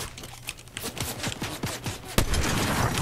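Rapid rifle fire from a sniper shooter video game, a fast run of sharp close shots with a heavier blast near the end.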